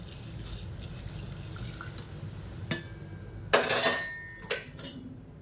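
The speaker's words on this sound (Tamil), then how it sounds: "இப்போ இதில் நம்ம கரைச்சி வச்சுருக்கிற இந்த வெள்ளை தண்ணியை சேர்த்துக்கலாம்" Dissolved jaggery water is poured into sweet appam batter in a home kitchen, with a few short splashy bursts and clinks of utensils against a quiet background. No one speaks.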